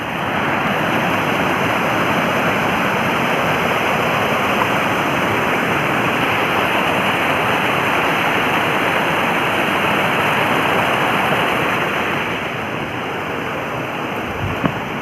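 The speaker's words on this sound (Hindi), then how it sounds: "चलो ये रिवर है।" A mountain river rushing through forest, a dense, steady roar of flowing water heard close and loud for the whole stretch, easing slightly near the end.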